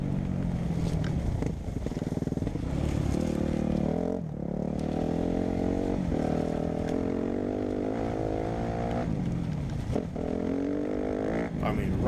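Dirt bike engine droning steadily as it rides through a farm field, a loud continuous motor note with slight pitch shifts and brief dips as the throttle eases, carrying on without break.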